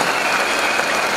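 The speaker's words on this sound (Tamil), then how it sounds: "ஸோ ஒரு மாதிரி நம்மளே கைதட்டிக்கலாமா, இன்னொரு கைதட்டலாமா?" An audience at a meeting claps together, a dense and steady patter of many hands, brief and close.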